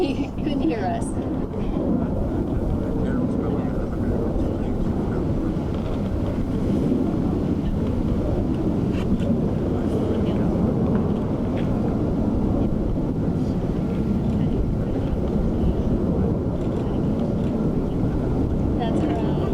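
Jet aircraft noise roars overhead at an outdoor event on the Midway, a steady, broad, loud rumble lasting the whole time, with voices partly masked underneath.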